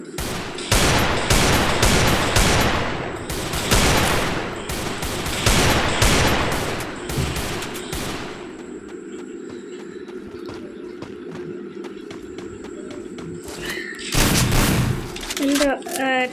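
Video-game gunfire in Free Fire Max rings out in loud, rapid bursts through the first half. A quieter stretch with faint background game sounds follows, then another sharp volley near the end.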